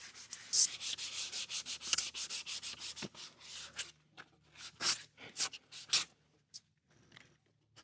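Small metal bracket being scuff-sanded by hand before painting: quick rhythmic rubbing strokes, close and clear, with a few brief pauses and scattered scratchy bursts toward the end.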